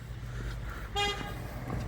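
A single short electronic beep from a 2006 Kia Sorento locking, brief and clear over a low steady outdoor rumble.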